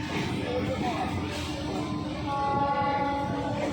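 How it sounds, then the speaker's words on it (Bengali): A train rumbles past at Chandannagar with clattering wheels and a sustained horn tone, people faintly talking in the background. "যাচ্ছে এবার ট্রেন।"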